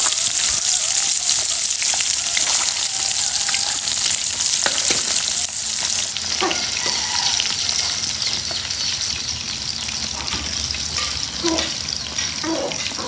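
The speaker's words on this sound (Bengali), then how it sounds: "তেল গরম করে একে একে মাছগুলো তেলের মধ্যে দিয়ে দিচ্ছি" Koi fish frying in hot oil give off a loud, steady sizzle close up, with occasional pops and crackles as the pieces settle into the pan, and the hiss eases slightly partway through.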